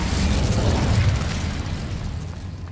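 An Incendio fire spell cast in a Harry Potter video game bursts out as a loud, broad whooshing blast that slowly fades over a couple of seconds.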